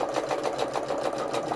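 Sewing machine stitching free-motion embroidery, a rapid, even mechanical chatter of needle strokes, close and steady, heard alone.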